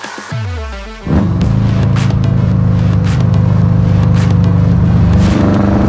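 A loud modified 1958 Porsche 356 Outlaw starts up: a brief cranking whir, then the engine catches and settles into a steady, heavy, throaty idle rumble, close and dominant throughout.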